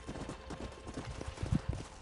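Horse hooves clip-clop in a steady, fairly quiet rhythm in the video game Red Dead Redemption, the footfalls growing slightly louder toward the end.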